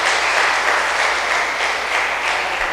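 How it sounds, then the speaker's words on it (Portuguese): A church congregation claps for the Lord, a thick, even roar of many hands applauding close and loud for a few seconds without letup. "Pode aplaudir o Senhor?"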